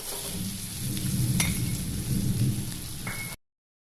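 Onion dropped into hot oil already seasoned with bay leaf, black cumin and turmeric gives off a loud, steady, close sizzle that hisses continuously for a few seconds and then cuts off.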